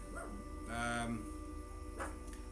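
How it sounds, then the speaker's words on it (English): A dog left outside barks and whines at a distance, a few muffled yips over steady background hum, with no talk. "I need to let my dog in because she's bitching that I've left her outside."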